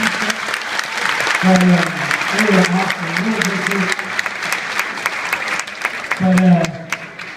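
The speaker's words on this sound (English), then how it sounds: "so give them another big round of applause" A high school audience applauds participants after a hypnotist show, broad crowd clapping throughout while someone speaks over it at close range.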